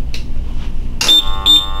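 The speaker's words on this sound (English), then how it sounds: "You hear two beeps." Two short, high electronic beeps from a GasClip gas monitor bump test station, one per monitor, sounding close together over a faint background, each a clear pure tone.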